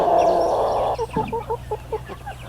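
A few friendly chickens give a series of short, close clucks in a quick rhythm after a brief louder squawk, with no talking over them.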